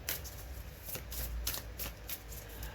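Tarot cards being shuffled by hand, a run of soft papery riffles and taps in quick bursts, close but quiet, with no speech over it.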